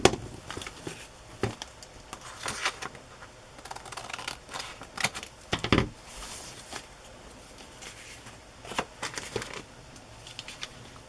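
Scissors snip and trim paper and vintage tape for a flea-market craft journal, giving a series of sharp, irregular cuts close to the microphone with some rustling between them.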